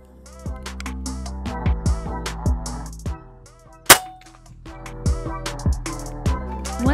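A single sharp shot from a folding bullpup PCP air rifle cracks out in the middle, amid quieter background clinks and thumps.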